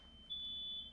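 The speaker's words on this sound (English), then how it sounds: "That's the fire alarm." A house fire alarm sounds one steady, piercing high-pitched electronic tone that holds for most of a second, faint and heard through a microphone, with no voices over it.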